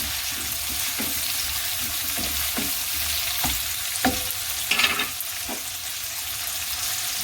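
Okra fries in a pan with onion, garlic and chili, a steady loud sizzle broken by a few soft scrapes of stirring, with no voices.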